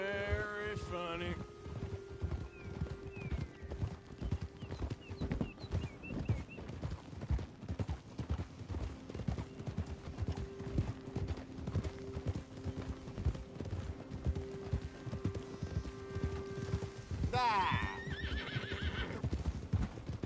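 A horse's hooves clip-clop steadily on the ground, close and rhythmic, with loud neighs and whinnies near the start and again toward the end, while people talk outdoors in light wind.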